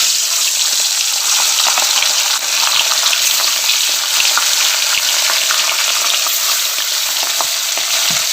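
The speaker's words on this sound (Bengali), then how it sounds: "তেল গরম হয়ে গেছে, আমি মাছ দিয়ে দেবো।" Pieces of rohu fish fry in hot oil in a kadai, a loud, dense, continuous sizzle and crackle that holds steady throughout with no talking.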